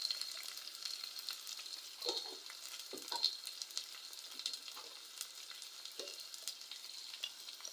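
Chopped tomato and pepper fry in a pan, a quiet steady crackling sizzle with a few soft stirring scrapes, no voices.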